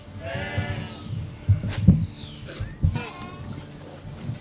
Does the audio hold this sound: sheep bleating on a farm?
yes